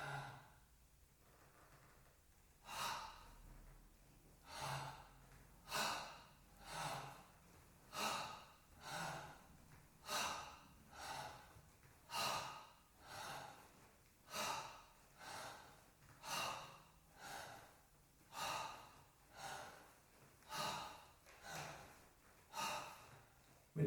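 Deep, slow breaths drawn in and let out during a posture and diaphragm-strengthening breathing exercise, about fifteen regular breath cycles in an even rhythm, close and fairly quiet, with no talking.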